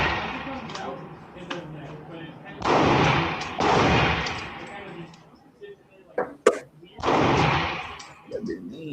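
Handgun shots at a gun range ring out as several loud, sharp reports spaced a second or more apart, with people talking and reacting between the shots.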